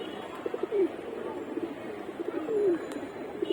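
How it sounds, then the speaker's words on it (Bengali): Loft pigeons coo in the afternoon just after landing from a flight, with low throaty calls rising and falling twice, close by and fairly soft, with faint chirps and outdoor noise around them. "কিছু কবুতর ফ্লাইং করতেছিল, এই যে নামলো আপনাদের সামনে।"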